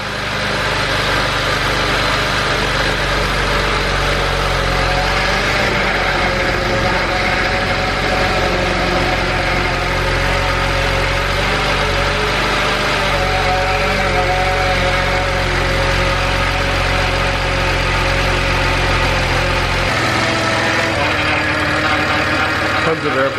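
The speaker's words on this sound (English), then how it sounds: "I start the car now, pump's a little noisy." A BMW engine idles steadily with a whining, noisy power steering pump full of air bubbles, a continuous close hum and drone that changes pitch slightly near the end.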